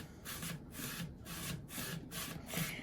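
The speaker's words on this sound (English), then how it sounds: "if you run it back and forth a bunch of times, you'll also accomplish that same thing of doing a little bit of sanding on the pieces" Wooden puzzle box pieces slid back and forth against each other to sand them, giving a steady rhythmic rasping scrape about twice per second, close and fairly quiet with no talking.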